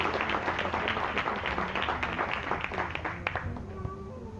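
A church congregation applauds together in a sustained burst of clapping that fades out after a few seconds, with a voice speaking briefly as it dies down.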